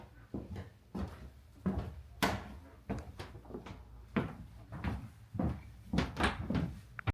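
A narrow old door in a historic governor's house is worked repeatedly, giving a string of creaks, knocks and latch clunks at close range with no talk.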